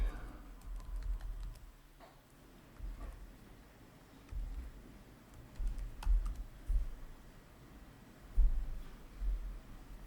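Typing on a Samsung Galaxy Book2 Pro360 laptop keyboard, a faint, close patter of soft key taps in uneven bursts over a quiet room hum.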